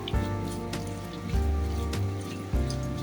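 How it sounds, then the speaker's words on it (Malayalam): Hot water poured into a pan of prawn curry as it cooks, a splashing, bubbling liquid sound in a few distinct pours, close and moderately loud, with no voices. "ഇനി നമുക്ക് ചൂടുവെള്ളം ഒഴിച്ച് വേവിക്കാം"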